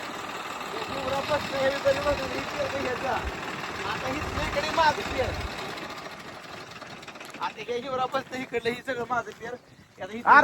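A tractor engine runs steadily with a loud, continuous rumble, and voices speak over it near the end.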